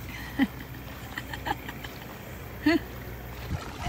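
A small rowboat being rowed across a bay, with a couple of distinct oar splashes and knocks over soft lapping water, heard close with people talking alongside.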